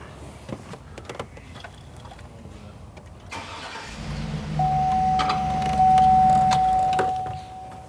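A 2003 Hummer H2 engine cranks and catches partway through, settling into a steady, fairly loud idle with a faint whine and some clicking from the cabin before it.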